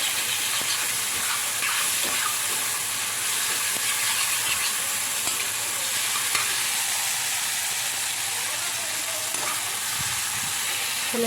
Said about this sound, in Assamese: ডিম বইল কৰি আছোঁ